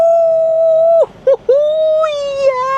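A man inside his truck imitates a wolf howl, a loud sustained wavering tone that breaks off briefly around the midpoint and then resumes and trails upward, close to the microphone.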